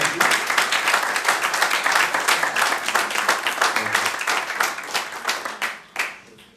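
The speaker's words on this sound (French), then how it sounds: "On peut applaudir les enfants aussi." A church congregation claps for the children, dense steady applause filling the room close by and ending with a few scattered last claps.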